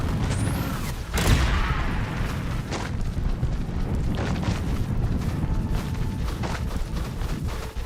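A Confringo fire spell in Hogwarts Legacy, cast during the Ranrok dragon boss fight, lands with a deep booming explosion early on, followed by rumbling bursts and crackling impacts.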